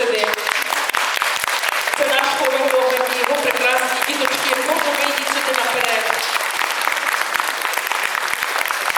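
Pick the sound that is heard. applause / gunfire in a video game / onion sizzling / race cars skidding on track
applause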